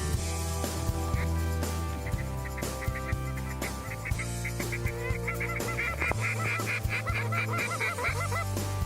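Wild geese honking during a snowy goose hunt, a dense chorus of many overlapping calls building louder and more rapid as the flock circles close overhead.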